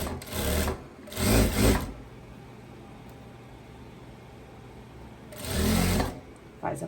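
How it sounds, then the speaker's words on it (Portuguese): A sewing machine stitches a viscose dress in three loud whirring bursts, two close together near the start and a longer one near the end, separated by quiet room noise; no one speaks. "E vou costurar"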